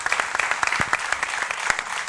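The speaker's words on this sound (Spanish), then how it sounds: "Un aplauso para todas ellas, que también lo merecen" Audience at a marine conservation forum breaks into steady, dense applause, loud and close, lasting a couple of seconds without talk.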